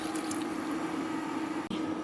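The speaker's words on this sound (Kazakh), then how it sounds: "су құйып жіберемін азырақ" Water poured into a pan of frying sweet peppers while cooking a strudel dish, giving a steady, close hiss and sizzle that runs throughout with one brief dip near the end.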